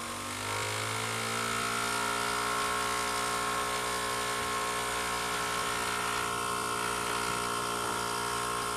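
A small homemade generator setup with crudely wound field coils runs its driving motor at a steady whine, with no bulb load attached, holding a constant buzzing hum with stacked tonal harmonics throughout and a slight shift near the end.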